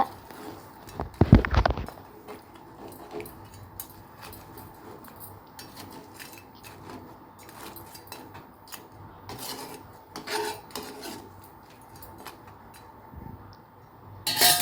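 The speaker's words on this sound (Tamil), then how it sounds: "தண்ணி ஆட் பண்ணிட்டு மிக்ஸ் பண்ணி விட்டுருங்க" A spoon stirs crab masala gravy in a pan after water goes in: one sharp, close scrape early on, then sparse, faint clinks and scrapes against a quiet background.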